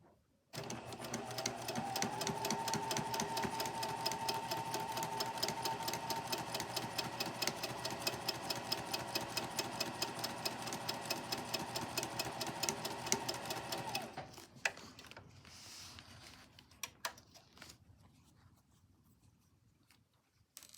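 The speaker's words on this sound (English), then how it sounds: "flip that back and sew on that crease" A sewing machine stitches a quilt block along a finger-pressed crease in one long fast rhythmic run, close and steady, then stops and leaves a few faint clicks and handling sounds.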